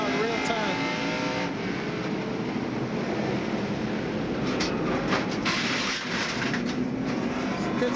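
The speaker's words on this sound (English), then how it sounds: "We're inside Elton Sawyer's car now in real time." A 1998 NASCAR Xfinity Series race car engine at Indianapolis Raceway Park roars loudly and steadily from close inside the cockpit, with rattling and rushing wind noise that never lets up.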